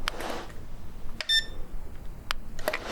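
An artifact detector from the STALKER: Call of Pripyat game setting gives a few sharp electronic beeps, including a brief tonal chirp, over a quiet background with scattered soft clicks.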